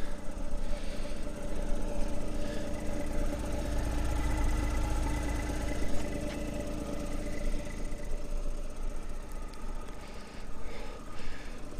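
A 1992 Mazda Autozam AZ-1 idles steadily, its small engine putting out an even, slightly knocking hum and vibration for the whole stretch, with no one talking.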